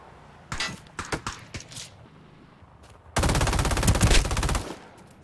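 FAMAS rifle fire in Ring of Elysium: a few sharp separate shots, then a loud continuous burst of rapid automatic fire lasting over a second.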